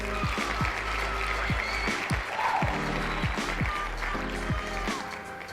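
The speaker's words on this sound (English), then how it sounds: "Let's give everybody another round of applause." Applause from a poetry open mic audience rolls on under a thumping, rhythmic electronic bass beat, loud and continuous before fading slightly at the end.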